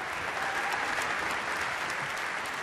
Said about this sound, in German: Klatschen Sie sie ein, meine Damen und Herren.